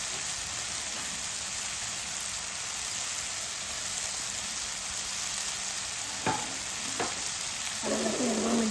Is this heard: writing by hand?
no